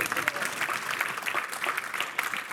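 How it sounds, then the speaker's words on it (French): Audience applauding a young girl after she sings at a local show, a brief lively round of clapping with voices faintly mixed in. "Quelle merveille, on peut l'applaudir un petit peu."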